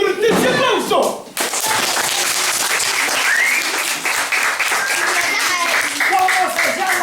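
An audience bursts into loud, sustained applause after a few seconds of lively voices, with dense clapping filling the rest of the clip at a school Santa Claus event.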